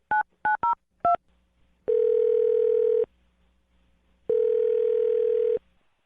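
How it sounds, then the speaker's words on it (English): A sequence of telephone dialing tones: four short, clipped keypad beeps in quick succession, then two long, steady ringback tones separated by a pause, loud and clear with no talking. "I'm going to dial his phone number right now"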